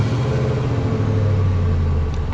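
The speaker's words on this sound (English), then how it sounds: "let's lock the truck so you guys can hear the beautiful sounds from the engine, because let me tell you, this V8" V8 engine of a 2021 Nissan Titan Pro-4X pickup idling after a remote start, heard as a steady, deep, close rumble with an even low throb and no talk.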